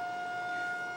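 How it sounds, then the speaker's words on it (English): A civil defense siren sounds at noon just outside a house, a steady sustained wail heard from indoors at moderate level, constant through the moment with no speech. "siren going off, it's right outside my house"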